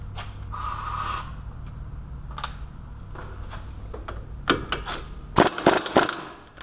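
A wrench works a 22 mm nut on the front axle of an AWD Nissan Murano, sharp metallic clicks and clanks bunching into a loud cluster near the end over a steady low hum.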